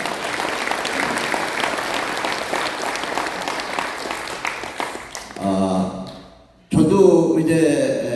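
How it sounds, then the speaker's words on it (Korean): Sustained applause from an audience at a national elders' rally for free unification, steady for about five seconds before fading and giving way to speech. "큰 박수 한번 해주시기 바랍니다"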